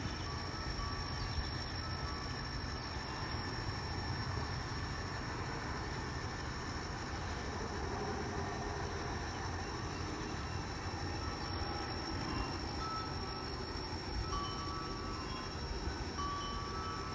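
An N scale model locomotive runs on a layout with a faint, steady motor hum and whine, continuous and low in level throughout.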